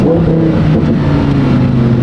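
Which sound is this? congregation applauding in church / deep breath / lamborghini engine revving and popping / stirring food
lamborghini engine revving and popping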